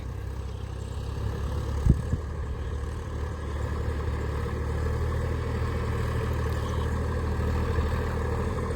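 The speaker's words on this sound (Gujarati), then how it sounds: "બે કલાક જેવું ટ્રેક્ટર ચાલશે" A tractor engine runs steadily while ploughing a farm field, with a constant low heavy drone and a sharp knock or two early on.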